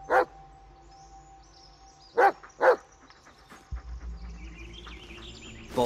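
A dog in the horror game Blair Witch gives three sharp, close barks: one at the start, then a quick pair a few seconds later, over quiet ambient forest sound with a low rumble near the end.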